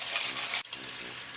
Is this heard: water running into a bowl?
yes